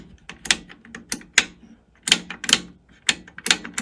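A Sony TC-K55 cassette deck's tape counter is reset, giving a string of sharp mechanical clicks and clacks in an irregular rhythm, close and fairly crisp, with no voices over them.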